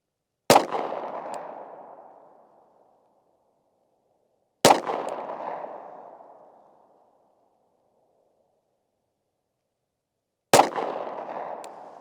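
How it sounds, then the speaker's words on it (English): A pan banged out among blueberry bushes at a distance, three sharp metallic bangs spaced several seconds apart, each ringing out and decaying into silence. "He's gonna bang a pan for us."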